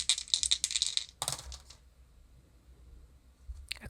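Astrology dice clatter and rattle in a quick run of bright clicks, a second short tumble following, then quiet, with one last click at the end; close and crisp.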